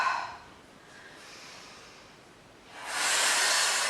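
Forceful breaths during a deadlift workout, a short hiss of air early on and then a longer, louder, sustained rushing exhale toward the end, close to the microphone with no talk.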